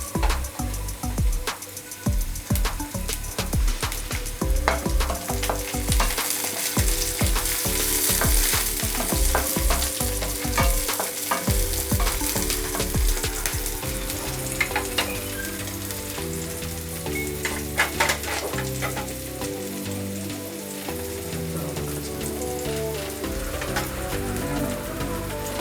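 Onion and sliced medium green chilli frying in a pan for veg Maggi masala noodles, a continuous dense crackle like rain under steady background music, with no talking.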